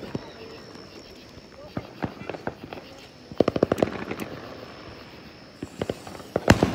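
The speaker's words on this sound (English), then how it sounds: "There's a lot of fireworks." Fourth of July fireworks and firecrackers pop and crack in uneven bursts, some in rapid strings and a few louder bangs near the end, with voices and outdoor bustle around them.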